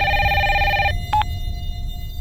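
A telephone rings with a steady electronic trill that stops abruptly, followed by a brief short beep and then quiet room tone.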